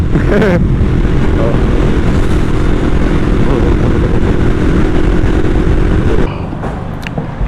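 Motorcycle engine droning loudly while riding in sixth gear on the road, a steady continuous roar with wind that drops off near the end.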